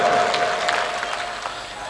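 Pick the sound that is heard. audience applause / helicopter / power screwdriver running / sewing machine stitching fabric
audience applause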